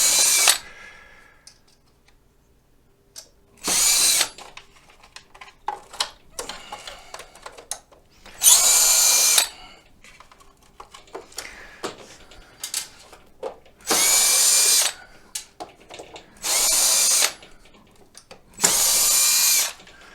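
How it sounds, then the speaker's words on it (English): A cordless screw gun drives screws into a Pride Mobility Victory 9 mobility scooter in six short, loud bursts with quiet handling noises in between. "Let's get my screw gun."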